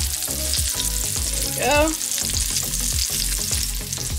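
Steady sizzling and frying from a hot pan, a continuous crackle with rhythmic low thumps, as a voice briefly speaks over it.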